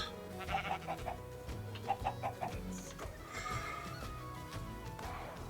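Farm animals including a sheep and chickens in a Minecraft modpack video game: a series of short bleating and clucking calls with nasal cries, mixed with a steady musical background and no talk.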